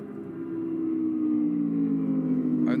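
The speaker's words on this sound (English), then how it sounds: "Let's listen to the Audi." An onboard view of an Audi race car during the 2025 Shanghai 8 Hours endurance race carries a loud, sustained engine drone whose pitch climbs gradually as the car builds speed.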